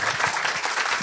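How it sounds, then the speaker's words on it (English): A Comic Con panel crowd applauds, a dense, steady wash of many hands clapping together, sustained and fairly loud throughout. "But please give them a round of applause because they are incredibly smart people."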